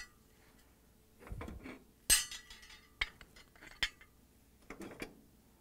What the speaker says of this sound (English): start with taking off the burner grates